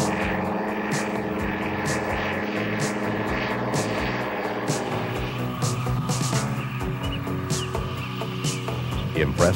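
A Kitfox light propeller aircraft flying, a steady droning engine and propeller buzz with a shifting pitch, partly under someone speaking.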